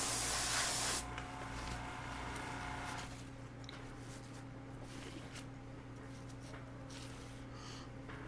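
An airbrush sprays paint in a loud hissing burst for about a second, then the airflow drops to a steadier, quieter hiss over a low hum that continues to the end.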